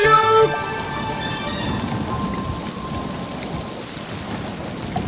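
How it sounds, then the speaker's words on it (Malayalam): A cartoon rainstorm with wind pours down as a dense, steady hiss of heavy rain under low rumbling, following a brief musical sting at the start, with no voices. "പെട്ടെന്നു മാനം കറുത്തു വന്നു, മഴയുടെ കൂട്ടത്തിൽ കാറ്റും വന്നു."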